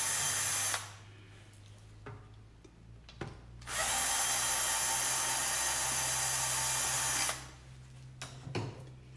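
A small drill driver whines loudly in a steady burst at the start, then runs again in a longer continuous high-pitched buzz, with short pauses and quiet clicks between runs.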